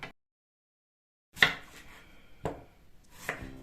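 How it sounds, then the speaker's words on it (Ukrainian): Crisp knife chops through an onion on a cutting board, a few sharp strikes spaced about a second apart after a brief silence, close and fairly quiet. "ріжу цибульку"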